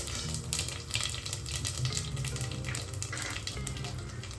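Mustard seeds, cumin and curry leaves crackle and sizzle in hot oil for tomato macaroni, a steady close frying hiss with scattered sharp pops throughout.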